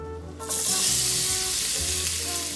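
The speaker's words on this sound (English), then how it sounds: "We're going to caramelize half of a white onion" Half a white onion hitting melted butter in a skillet over medium-high heat bursts into a loud, continuous sizzle that holds steady, close and alone.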